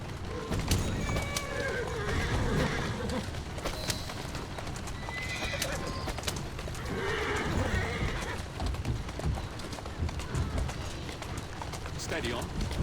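A horse in Assassin's Creed Syndicate neighs and whinnies while its hooves clip-clop steadily at a run, under a continuous game soundscape. A rider's voice talks over it.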